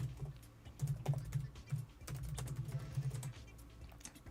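Fingers type a search on a computer keyboard in quick, irregular bursts of close key clicks, with short pauses between runs.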